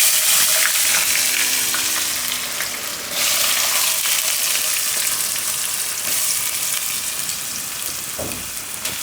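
Potatoes tipped into a hot tempering of curry leaves and asafoetida, giving a steady, loud, close sizzle of frying oil that holds throughout with a brief surge near the end.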